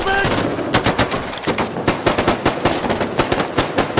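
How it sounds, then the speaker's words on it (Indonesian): Rapid bursts of machine-gun and gunfire from a film shootout between robbers and gunmen, loud, close and repeated in uneven volleys throughout. "salah satu anak buah Nick berhasil menembak Lee Fox yang saat itu lagi berlari"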